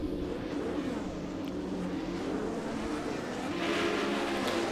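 A Formula 1 race car in a 1979 Laguna Seca video game race holds a loud, steady engine drone at the start, with the revving rising slightly near the end and no talk heard.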